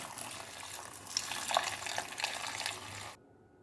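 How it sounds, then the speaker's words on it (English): Water runs into a pot of unripe plantains in a home kitchen, a soft, steady splashing stream that stops abruptly near the end. "I top it up with water"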